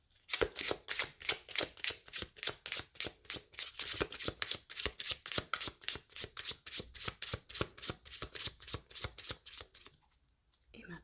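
A deck of tarot cards shuffled by hand in a quick, steady rhythm of riffling bursts for about ten seconds. The shuffling is close and clear, then stops.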